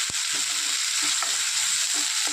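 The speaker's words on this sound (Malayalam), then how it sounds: "ഉപ്പ് ചേർത്ത് നന്നായിട്ട് ഇളക്കുക." Egg curry with salt added is stirred in a pan over a steady background sizzle, with a few soft scraping strokes spaced through the short stretch.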